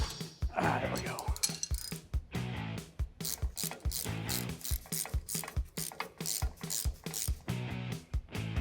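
A wrench ratchets on a rusty part of a 1994 Ford F-150 pickup, with rapid repeated metallic clicks in bursts throughout, close and fairly loud.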